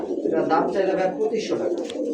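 Rajgolla pigeons, a pair offered for sale, coo in soft repeated throaty notes close by, mixed with a person talking over them.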